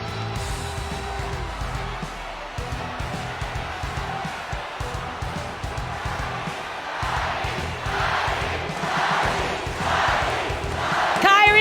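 An esports arena crowd at the M5 World Championship grand final chants in rhythmic bursts for team ONIC, rising in loudness over a dense, steady roar of the audience.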